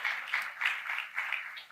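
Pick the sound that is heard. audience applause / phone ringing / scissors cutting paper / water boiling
audience applause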